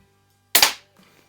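A Daisy 717 target air pistol fires once, a sharp close pop with a short decay, set against near silence.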